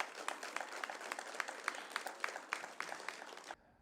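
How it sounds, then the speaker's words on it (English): Applause from a small audience at a tribal wellness center ribbon cutting in Stigler, a steady patter of claps from a modest crowd for the council, moderately distant, ending abruptly. "we need to give our council a big round of applause"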